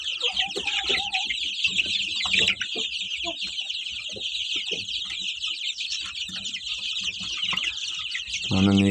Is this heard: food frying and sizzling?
no